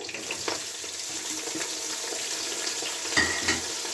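Ginger and onions fry in a pan while vegetables are being cooked, giving a steady close hiss of sizzling oil with a few sharper stirring clicks and splutters, with no talking.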